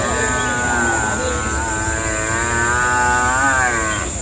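Buffaloes low at a large pregnant-buffalo market in Erragadda, Telangana, a long drawn-out moo holding steady for several seconds, loud and near, over a busy market background and a faint electrical hum.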